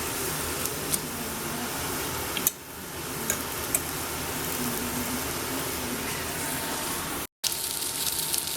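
Onions browning in a pan on the hob, a dense continuous sizzle with occasional faint ticks and clatters throughout, briefly cutting out near the end.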